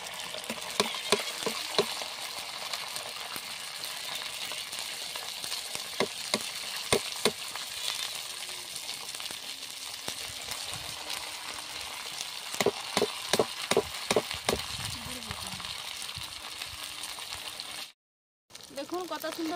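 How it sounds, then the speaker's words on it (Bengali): Semolina batter is pushed through a perforated ladle into hot oil, where it fries with a continuous sizzle and bursts of sharp scraping clicks from the ladle, and a voice comes and goes. "তেলটা গরম হয়ে গেছে, এবার আমি ছান্তা নিয়েছি, ছান্তার মধ্যে এরকম ঘষে দিচ্ছি।"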